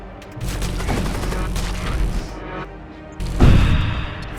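Reaper ship weapon discharging in the space combat game Void War, a sustained rumbling barrage of booming blasts with a louder impact burst near the end, no speech.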